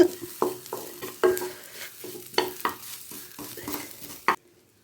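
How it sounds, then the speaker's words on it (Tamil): Mashed potato for a Maggi noodle cutlet is stirred and sautéed in a pan, with soft scraping strokes and light sizzling in an uneven rhythm, close and moderately loud, then stopping abruptly near the end. "இப்போ இதை மசிச்சு உள்ளே போட்டுக்கலாம். நல்லா வதக்கிக்கலாங்க, ஈரம் வற்றி போகிற அளவுக்கு."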